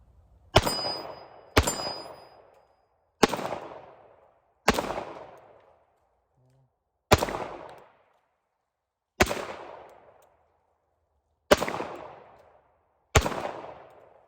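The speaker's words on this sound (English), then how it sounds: "some 230 grain ball ammo. Just regular old 45 ACP. And see how it shoots." Eight single shots from a Springfield Armory 1911-A1 Mil-Spec .45 ACP pistol firing 230 grain ball ammo, each a sharp loud crack with a short decay, spaced irregularly one to two seconds apart with silence between.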